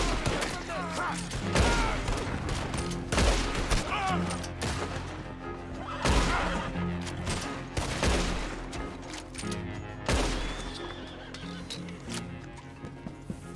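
Repeated gunfire bursts from a Red Dead Redemption 2 shootout at a bridge, sharp loud shots recurring every couple of seconds over a steady music bed, with occasional voices.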